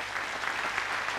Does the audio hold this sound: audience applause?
yes